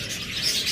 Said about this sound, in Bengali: এখানে দুইটা পাখি বক্সের ভিতরে আছে